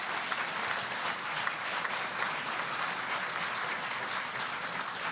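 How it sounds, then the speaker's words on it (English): A crowd at a policy leadership breakfast applauds elected officials and staff members, a steady, full round of clapping from many people that holds evenly throughout. "So how about a big round of applause for all of the elected officials and staff members?"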